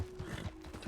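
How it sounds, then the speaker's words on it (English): Horse in Red Dead Online giving a brief, faint whinny, short and somewhat distant-sounding. "I just heard a horse scream, and it was not my horse."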